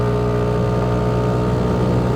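Kymco G7 scooter engine revving at half throttle, a steady loud buzzing drone at high rpm, close up and unbroken.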